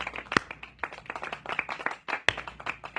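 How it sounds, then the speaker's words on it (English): A small audience claps in a brief, uneven burst, individual hand claps standing out close and sharp against a loose patter that fades within a few seconds. "Round of applause, please."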